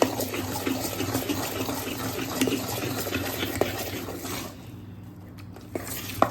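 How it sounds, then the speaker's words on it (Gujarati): Water pours steadily into a bowl of ground soaked chana dal batter for spongy khaman, a close splashing rush that tapers off near the end, with no talking. "આપણે ફરી પાણી એડ કરીશું."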